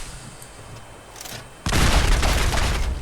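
In Fallout 4, quiet game ambience gives way to a sudden loud burst of gunfire, a dense rapid barrage that continues to the end.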